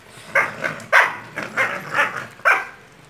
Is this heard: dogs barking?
yes